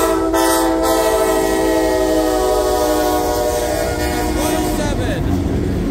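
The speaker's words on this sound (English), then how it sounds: "SD70MAC is leading this train" A CSX SD70MAC freight locomotive rolls past in Cooksville, Maryland, with a loud, sustained horn blast over the heavy rumble of the train.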